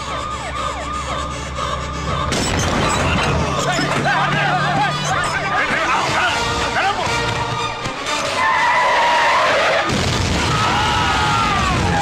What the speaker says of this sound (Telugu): bomb bomb bomb